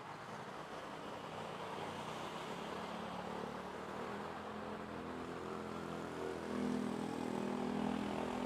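Boeing 777 pushing back at Manila Airport, a steady, distant hum of jet engines and ground equipment that swells slightly toward the end, with no talk.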